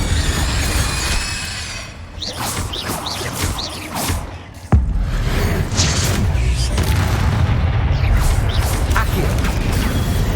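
Spellcasting in Hogwarts Legacy, including the Incendio fire spell, with whooshing casts, a sharp bang midway and crackling, rumbling bursts that keep rolling afterward.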